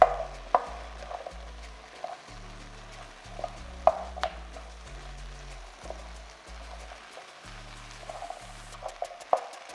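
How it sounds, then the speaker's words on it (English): Potatoes sizzle in a frying pan while a utensil scrapes and clanks irregularly, stirring close by, with a low electronic hum underneath. "Now I'm adding the potatoes. mixing it well together."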